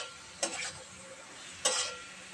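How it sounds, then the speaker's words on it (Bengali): Curry with green peas, for matar paneer, stir-fried in a pan: a faint background sizzle broken by three separate scraping strokes of a spatula against the pan. "এবার এর মধ্যে দিয়ে দেব মটরশুঁটি, দিয়ে আবার একটু ভালো করে কষিয়ে নেব"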